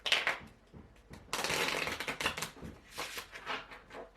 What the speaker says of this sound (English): then we're going to shuffle one more time